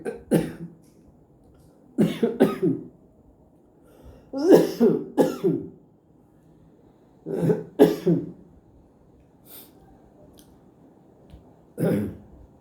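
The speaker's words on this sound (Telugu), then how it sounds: "నాకు కొంచెం గాలి ఎక్కువైందా లేదో దగ్గు వచ్చేసేసింది" A run of harsh coughs in clustered bursts, several fits spread across the clip with short quiet gaps between them, close and fairly loud.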